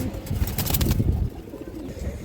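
A pigeon cooing close by in a loft, a low rumbling murmur that fades after about a second, with no talk.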